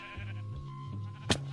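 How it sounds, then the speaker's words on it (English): A Minecraft sheep bleats in the video game, short and nasal over a steady tonal background, ending with a brief sharp burst. "That sheep is now grown up."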